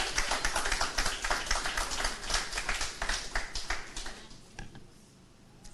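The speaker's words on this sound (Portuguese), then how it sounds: "Pode aplaudir a palavra do Senhor," A church congregation claps during a sermon, a burst of scattered hand claps at a fairly close distance that builds briefly, then thins out and fades over a few seconds.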